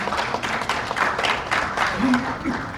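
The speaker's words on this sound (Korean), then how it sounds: "큰 박수 보내주시기 바랍니다." Steady applause from an audience at an ESG awards ceremony fills the room, a dense wash of clapping with a voice speaking over it.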